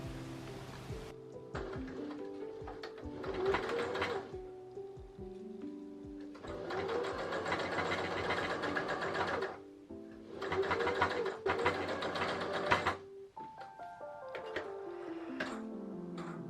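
A sewing machine stitches the underarm seam of a dress sleeve in three long runs of rapid whirring, with short pauses between them and steady background music throughout.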